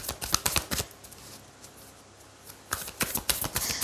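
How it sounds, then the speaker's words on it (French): Tarot cards shuffled and drawn, a quick run of crisp riffling snaps, then a pause and another burst of card flicks, close and fairly quiet. "on va tirer 9 cartes"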